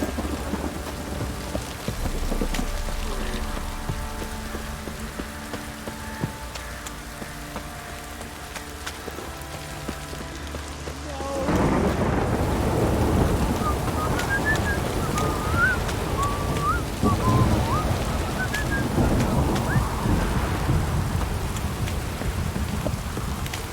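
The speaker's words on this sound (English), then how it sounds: "This downpour's a bastard, it is." Heavy rain downpour with rumbling thunder in The Witcher 3, first a steady hiss of rain, then a louder, denser roar of rain on surfaces with a low rumble continuing throughout.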